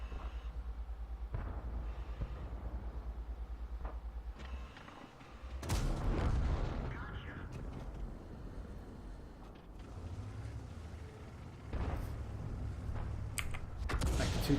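Artillery shells landing in World of Tanks, a heavy booming impact followed by rumbling blasts and scattered explosions over the steady low drone of a tank engine, loud and close, with no talking.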